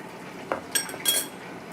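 A spoon stirs fried onions with garlic ginger paste in a metal pan, a few light clinks and scrapes of metal on metal, close and quiet, spread over about a second.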